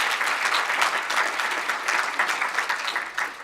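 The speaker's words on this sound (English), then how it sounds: "give him a round of applause" Steady applause from an audience, a dense wash of many hands clapping at even loudness throughout, with no voices standing out.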